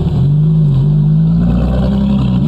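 Turbocharged supercar engines in a racing video game, including a Bugatti Veyron and a Ferrari F12 TDF, droning loudly and steadily at the race start with a rising hum and no speech.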